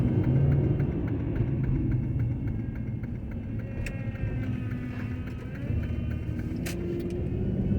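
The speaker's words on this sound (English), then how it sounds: "right now I'm driving through the west end of Cleveland" A car rolls through the streets of Cleveland's west end. From inside, a steady low engine and road rumble carries on throughout, with faint higher whirs and brief clicks over it.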